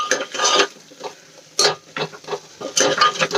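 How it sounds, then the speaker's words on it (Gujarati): A spoon stirs onions through thick gravy in a sauté pan, giving several close, loud scraping strokes in an uneven rhythm with short pauses between them and no talking. "વચ્ચે વચ્ચે આ રીતે હલાવતા રહેવાનું, જેથી કરીને નીચે ગ્રેવી આપણી ચોંટવા ન લાગે"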